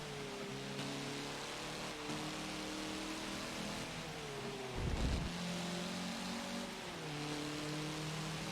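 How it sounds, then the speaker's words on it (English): Race cars in Forza Motorsport 7 showroom rally racing, with several engine tones rising and falling together as pursuing cars stay close behind, plus one brief low thump midway, moderately quiet throughout. "I do hear some other cars right behind us"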